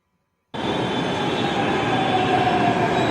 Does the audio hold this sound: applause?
no